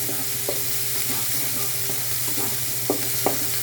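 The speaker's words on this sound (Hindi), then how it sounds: "प्याज, ये तीनों चीज़ें भून चुकी" Onion, green chili and garlic frying and being stirred in a pan, a steady close sizzle with a few light spoon taps and scrapes.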